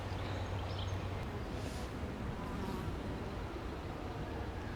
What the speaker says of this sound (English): The flies, hoverflies, wasps, whatever they are, they're loving it.